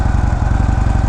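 A 2015 Harley-Davidson Dyna Low Rider with a Twin Cam 103 engine idles close by, its loud, lumpy exhaust pulsing in a steady, uneven rhythm.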